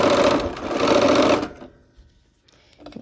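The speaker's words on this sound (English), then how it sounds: "let's go to the machine and we will sew those" A sewing machine stitches quilt block pieces for a Christmas block-of-the-month quilt in one fast, loud burst of about a second and a half, then stops, leaving near silence and faint handling noise.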